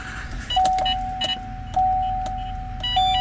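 A 2018 Chevrolet 2500HD Duramax diesel pickup with its ignition cycled off and on, interior chimes repeating in a steady pattern about every second over a low idling rumble, with a few clicks and small mechanical clatters.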